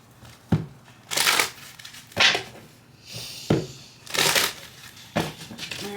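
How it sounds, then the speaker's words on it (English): Tarot cards being shuffled by hand in several quick riffling bursts with short pauses between, close and fairly loud in a quiet room. "then we're going to shuffle and see what Spirit brings to us"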